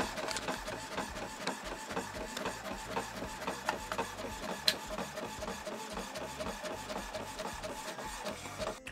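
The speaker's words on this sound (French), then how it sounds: "Pour l'instant, je vais imprimer que ça" A home printer runs without a break while printing pages for a personalised DIY agenda, a busy rhythmic whirring and shuffling of paper-feed mechanics heard close and fairly quiet, with no one talking.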